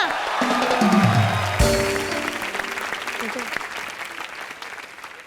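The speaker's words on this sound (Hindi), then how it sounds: "जोरदार तालियां" Studio audience applauding on a live Hindi comedy show, a loud dense burst of clapping and cheering that swells then gradually thins out over several seconds, with music underneath.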